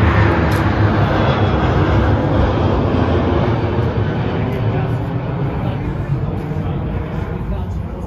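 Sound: passenger plane flying overhead

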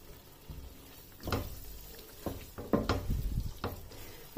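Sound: tomato masala cooking and sizzling in a pan

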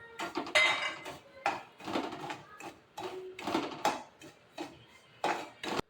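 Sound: semolina being roasted and stirred in oil in a pan

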